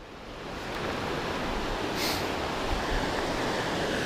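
Water rushes steadily and loudly along the Continental Divide Trail, a dense, continuous wash of noise with no voices.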